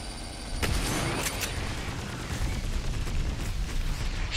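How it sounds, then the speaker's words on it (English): Explosions and gunfire from the Agents of Mayhem video game, a dense jumble of booms and sharp blasts rolling continuously at moderate level, with no talking. "Too many explosions."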